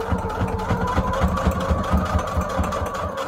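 A sewing machine stitches through layered paper junk journal embellishments, a close, steady rapid mechanical chugging with a continuous motor whir for a few seconds.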